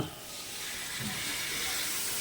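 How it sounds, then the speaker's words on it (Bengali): Water poured into a pan of simmering soybean curry, setting off a loud, broad steamy sizzle and hiss that swells slightly and holds steady close by. "এবার আমি পরিমাণ মতন জল দিয়ে দেব"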